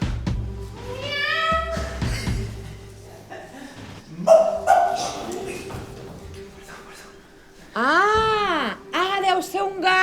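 A dog barks a few times amid children's voices and animated talk, the barks short and sharp, with a wailing voice rising and falling near the end.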